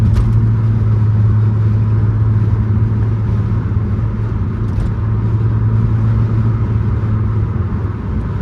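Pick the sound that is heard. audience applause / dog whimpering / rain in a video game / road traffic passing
road traffic passing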